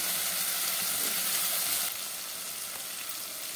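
Winter vegetables sizzle in a pan with oil, a continuous bright frying hiss that drops slightly in loudness partway through, with no talking.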